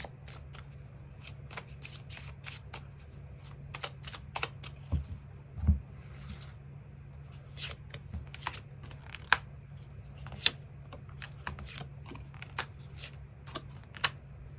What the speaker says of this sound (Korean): 우리 두 사람에게 필요한 조언의 카드는 무엇이 있을지 추가 카드 뽑아보도록 하겠습니다